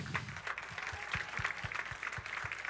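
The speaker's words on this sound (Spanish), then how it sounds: "¿Le podemos dar un aplauso?" Church congregation applauding to welcome a brother to the front during a Spanish-language service, a steady wash of clapping with a soft rhythmic low thump running underneath throughout.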